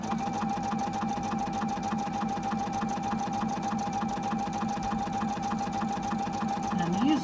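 A Husqvarna Viking sewing machine runs a steady fast stitch, loud and close, with an even rapid needle rhythm throughout and a slight pitch rise near the end.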